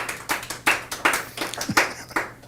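A small studio audience claps for a guest on a TV show, with a handful of distinct, fairly close bursts of hand claps that come in uneven rhythm and fade out within a few seconds.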